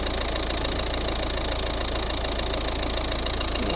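A 2012 Volvo V50 with a 1.6 D2 diesel engine idles steadily, a constant even mechanical drone with no talking.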